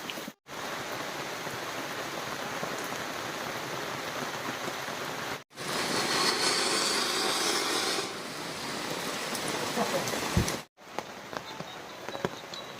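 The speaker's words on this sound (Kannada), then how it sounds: "ಈ ಸತಿ ಭಾರಿ ಮಳೆ ಇದೆ" Heavy monsoon rain pours down in the Malnad hills near a village shrine during Deepavali, making a dense, steady roar of rain on surfaces. It cuts out briefly a few times and then resumes, with some louder stretches.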